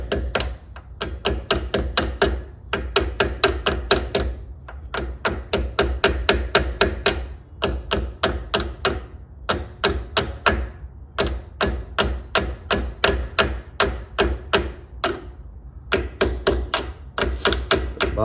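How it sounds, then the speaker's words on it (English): Rapid bursts of metallic hammer blows as brake pads are hammered into a four-piston Brembo caliper, tight runs of sharp taps separated by brief pauses, close and loud, repeating steadily throughout. "Then go ahead and just hammer them all the way back in."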